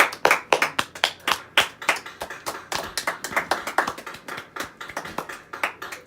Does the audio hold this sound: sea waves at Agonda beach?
no